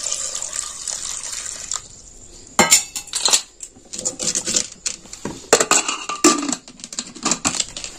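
Water splashes and rattles into a metal pot for boiling sweet potatoes, a steady pour followed by clanks and sloshing as the pot is handled, with no voices.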